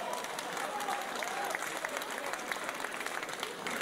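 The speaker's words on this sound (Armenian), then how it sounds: "ջերմ ծափարենք" Warm applause greets a songwriter performer at a sister's wedding celebration, dense even clapping from the guests with a faint murmur of the crowd underneath.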